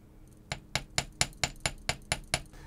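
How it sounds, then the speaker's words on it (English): Hammer striking curved wire on a bench block while shaping a jellyfish pendant's wire legs, nine crisp metallic taps in an even, steady rhythm, close and clear against a quiet room. "And then I'm going to hammer the curves."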